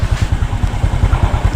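A motorcycle engine climbing a hill toward a hilltop camping spot in Rizal, a steady, loud, throaty chugging with a quick regular pulse throughout and no talk.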